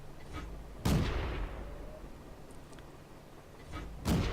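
A T-60 light tank in a video game fires its gun twice, each shot a sharp loud boom with a decaying rumble, separated by a few seconds of low background noise.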